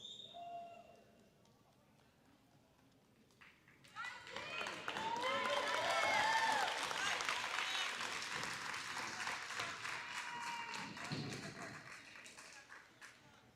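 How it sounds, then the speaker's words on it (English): Audience applause at a junior high school awards ceremony, a dense wash of clapping swelling up after a quiet start and carrying on steadily, with some voices and cheers mixed in. "Let's give them one big last round of applause"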